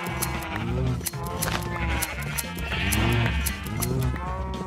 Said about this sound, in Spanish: Vale, ovejas desgraciadas, vengan aquí.